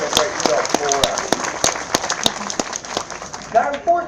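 Audience members at a bird show clap in scattered, uneven bursts while a presenter keeps talking over the applause.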